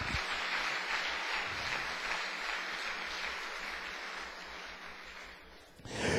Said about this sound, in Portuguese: Agora você pode dar uma salva de palmas para o Senhor Jesus.